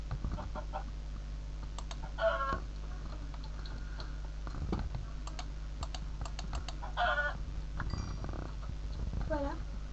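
Short bursts of chicken clucking in Minecraft sound out intermittently, mixed with keyboard typing clicks and a low steady hum underneath.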